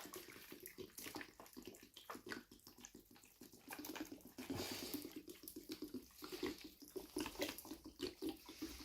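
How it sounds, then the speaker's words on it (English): Water poured steadily onto a tomato plant's soil in a garden, a continuous splashing gush that stays fairly close and even throughout, with no talking. "I'm just going to give it lots of water."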